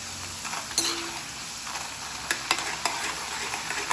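A lunchbox snack deep frying in oil until light brown, with a steady low sizzle broken by several sharp clinks and scrapes of a utensil stirring in the pan.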